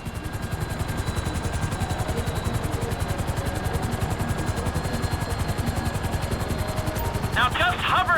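A helicopter hovers in GTA 5, its rotor chopping in a steady, rapid pulse that stays loud and close throughout, with a brief extra burst of mechanical sound near the end.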